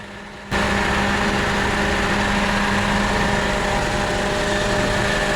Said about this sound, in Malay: Nampak bunyi kipas? Sangat kuat. Ini kipas baru, motor fan baru.